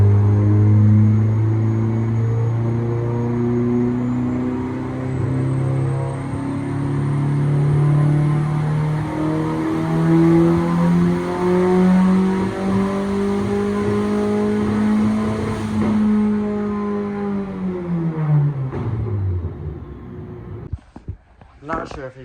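Turbocharged Mazda Miata engine on a dyno during a full pull, revs rising steadily under heavy load with a loud droning exhaust and a faint turbo whine, then dropping off sharply as the throttle closes, followed by quieter rattles.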